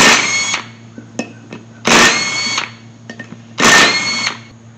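Impact wrench or power tool rattling off ring gear bolts on a 1979 Chevy C10 short-bed differential, three loud bursts of about a second each with brief metallic clinks between them.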